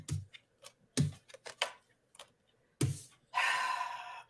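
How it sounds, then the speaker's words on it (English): Tarot cards shuffled by hand in a quiet room, giving several short, crisp riffling bursts with pauses between them, then a longer, steady flutter of cards near the close. "I'm shuffling the cards."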